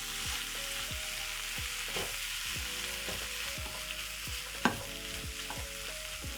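Tomatoes and spinach sizzle in an omelette pan while a utensil stirs them, with repeated scraping strokes over a steady frying hiss and one sharper clack near the end.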